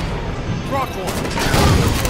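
Heavy Halo 5 campaign gunfire, dense bursts and booming shots that stay loud and continuous, with voices talking over the battle.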